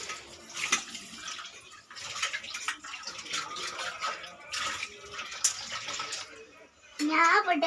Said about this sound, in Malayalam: പുട്ടും കുറ്റി കഴുകണു.